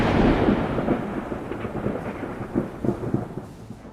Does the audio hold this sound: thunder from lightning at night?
yes